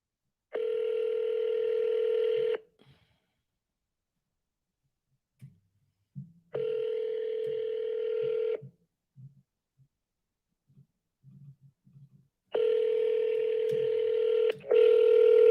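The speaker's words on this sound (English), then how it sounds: "they're not going to pick up when it rings like that" Ringback tone on an outgoing phone call, with three long, loud, steady electronic rings separated by silent gaps and small faint clicks in between.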